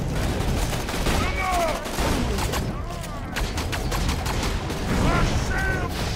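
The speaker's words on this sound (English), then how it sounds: "It shoots like some kind of laser. I think it's at one of those E-Tech guns." Red E-Tech laser gun in Borderlands 2 firing in rapid bursts, with zapping electronic sweeps and dense impacts close and loud over game noise, a voice talking intermittently.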